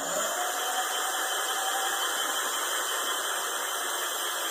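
An e-bike hub motor spins freely on half throttle, giving a steady, continuous whine with a constant tone from start to finish. It is fairly quiet and there is no talking.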